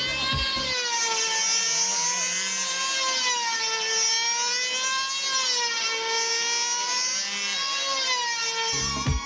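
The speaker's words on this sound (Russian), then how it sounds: "У них основной двигатель, это уже двигатель сгорания дизельный." Small diesel combustion engine on an aerobatic model aircraft, running as a steady, high, buzzing whine with slight pitch wobbles for several seconds, close and loud.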